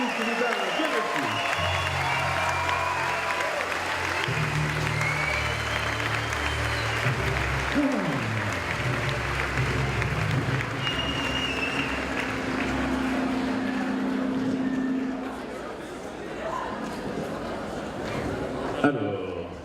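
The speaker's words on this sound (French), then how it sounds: "on peut applaudir le public qui nous a bien reçus" Audience applause at a CFC diploma award ceremony for apprentices, a long sustained round of clapping with music and voices mixed in, easing off toward the end.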